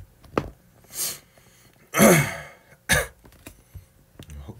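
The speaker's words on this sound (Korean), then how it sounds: "헛기침이 자꾸 나서" A person repeatedly clears their throat: a handful of short, rough bursts separated by quiet gaps, close and fairly loud, with the strongest two near the middle.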